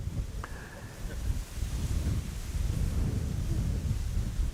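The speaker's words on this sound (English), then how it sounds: "The wind is picking up." Strong wind buffets the microphone at Amsterdam Schiphol airport near the Polderbaan runway, a loud, continuous low rumble that builds and gusts, with a faint brief tone near the start.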